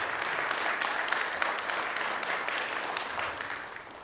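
Applause from a gathered audience at an annual general meeting in Abu Dhabi, a steady dense wash of many hands clapping that holds evenly for four seconds and eases slightly at the end.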